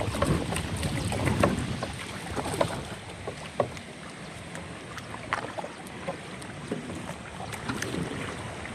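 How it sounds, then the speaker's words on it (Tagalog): Strong wind buffets the microphone while a small boat rocks on choppy water, with scattered splashes and knocks throughout. "Napakalakas ng hangin ngayon."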